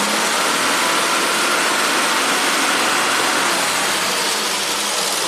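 A 1967 Triumph GT6 engine held at raised RPM, a steady, loud, continuous broadband roar close by with no breaks across the whole stretch.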